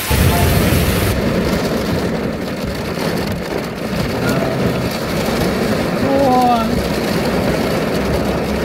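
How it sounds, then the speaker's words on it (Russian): Steady rain falling outdoors at a flea market, a broad continuous hiss of drops filling the scene at fairly loud level throughout, with faint distant traffic underneath. "Вот, меня застал дождь"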